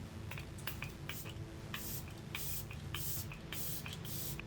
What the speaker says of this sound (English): Bit of setting spray.